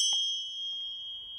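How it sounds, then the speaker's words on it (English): A small bell rings once at the start with a bright, pure tone that holds and slowly decays over a quiet background. "So for few seconds or minutes, I would be doing the bells."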